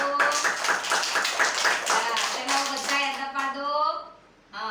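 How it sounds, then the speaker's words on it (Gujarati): Children clapping hands at an anganwadi, a quick run of close, rapid claps mixed with chanting young voices, fading to quiet near the end. "ચલો તાળી પાડો"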